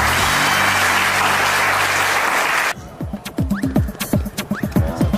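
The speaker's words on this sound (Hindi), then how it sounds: "चलो अब आप लोग ताली मारो।" Audience clapping at a comedy show bursts out loud and dense for under three seconds, then thins into scattered individual claps that continue unevenly to the end.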